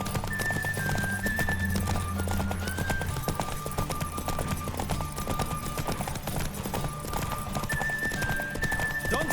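In The Witcher 3: Wild Hunt, a horse gallops with fast, steady clip-clop hoofbeats, loud and close, over a sustained musical drone and a high wavering tone. No speech can be made out.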